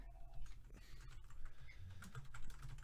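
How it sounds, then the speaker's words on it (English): Rapid typing on a computer keyboard, quiet and close, with irregular soft key clicks pattering along steadily and no voices. "I'm typing out the poll"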